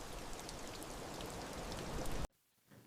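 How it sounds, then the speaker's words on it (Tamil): Steady, dense rain pours down, a loud continuous hiss of drops hitting surfaces that cuts off abruptly near the end, leaving near silence. "அந்த அமிலத் துகள்கள் மழையுடன் சேர்ந்து கீழே விழும்போது"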